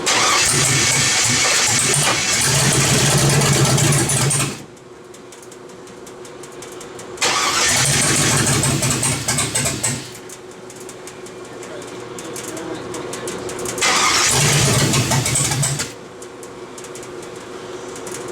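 An LS-swapped car engine, lacking stepper motor control, runs rough and pops in repeated bursts of loud revving separated by quieter idling, with some voices in the background.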